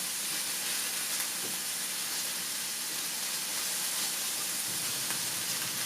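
Mushrooms with onion and garlic sautéing in butter, a steady loud broadband sizzle and hiss that runs continuously close up with no talk.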